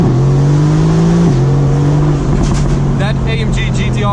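Mercedes AMG GT C accelerating, its engine drone holding steady with a gear-change dip and then rising in pitch, while a person talks over the sound near the end.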